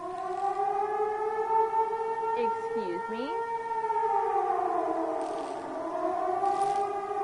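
A long wailing civil defense siren in the video game Season: A Letter To The Future, rising and falling steadily at a distance, with a person briefly speaking over it.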